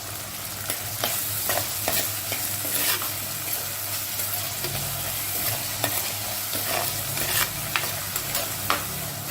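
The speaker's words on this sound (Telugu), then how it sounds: "కొంచెం కలర్ చేంజ్ అయ్యేంత వరకు ఫ్రై చేసుకుందాం." Chopped onions fry with salt in a pan and are stirred steadily, giving a close, continuous sizzle broken by repeated scraping strokes of the spoon throughout.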